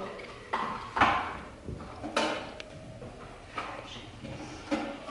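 Teaspoons being handled and set down on a table at a child's pretend birthday setting, with several light clinks and clatters spaced across the moment in a quiet room.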